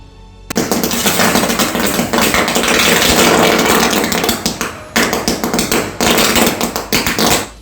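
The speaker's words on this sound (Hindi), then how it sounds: "बिजली के तारों के हालात ऐसे हो गए हैं मानो आतिशबाजी हो रही है।" Sparking, crackling electric power lines in Shravasti, Uttar Pradesh, fizzing at night like fireworks, a loud dense crackle running almost continuously with a brief dip midway and sharp bursting snaps toward the end.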